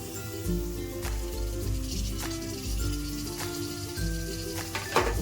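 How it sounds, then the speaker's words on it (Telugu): Shrimp frying in a pan with tomatoes and onions for a shrimp pickle, giving a steady hissing sizzle under continuous background music. "చిరేల్ని మనం ఈ టమాటాల్లో ఈ ఉల్లిపాయల్లో వేసేసుకోవాలి"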